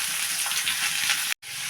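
Cut pumpkin pieces hit hot oil with black cumin seeds and green chili, producing a loud, continuous sizzle that cuts out briefly near the end before resuming.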